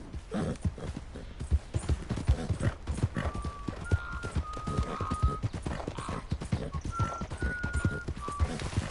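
Hooves of a horse galloping in Red Dead Redemption 2 clatter in a fast, steady clip-clop rhythm close by, with a few short whinny-like tones breaking through over the pounding gait.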